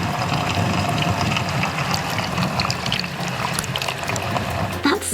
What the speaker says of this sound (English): Did you hear all the water spraying around?